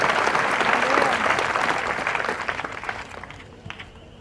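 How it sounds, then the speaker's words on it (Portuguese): Church congregation applauding during a sermon, a dense wash of hand claps that holds loud for about three seconds, then thins out and fades to scattered claps. "Give a hand clap tonight."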